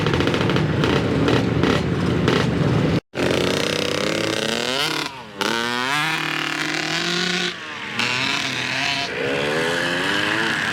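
Kids race little motorbikes around a dirt track, their small engines buzzing and whining as they rev up and down through repeated accelerations, loud and fairly close, with brief cutouts between passes.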